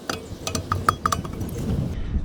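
Brake rotor being fitted onto the rear hub of a 2012 Subaru Outback, with several sharp metallic clinks and taps in the first second, then quieter handling noise.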